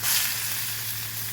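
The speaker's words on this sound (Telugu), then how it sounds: "ఇప్పుడు మామిడికాయ తురుముకున్నాం కదా, ఇది నూనెలో వేసి వేయించుకోవాలి." Grated raw mango fries in hot oil for mango pulihora, a continuous close, loud hissing sizzle with no voices.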